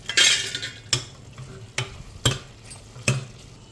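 Ridge gourd and chana dal curry being stirred in a pan, with a few sharp spoon scrapes against the metal over a soft, steady sizzle, close and alone.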